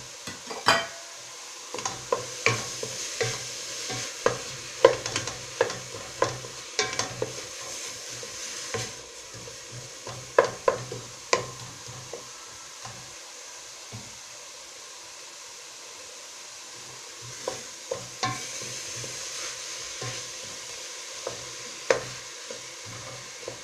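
Tomatoes and onions fry in a pan while being stirred, a soft continuous sizzle broken by frequent scraping clicks of a utensil against the pan, close by, with a quieter stretch in the middle.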